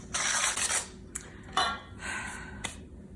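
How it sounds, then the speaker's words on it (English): A whisk mixes sugar and cornstarch in a bowl, giving bursts of brisk scraping and rattling with a few sharp clinks against the bowl's side, close and fairly loud with no talk. "So I'm just gonna whisk this together. This is loud."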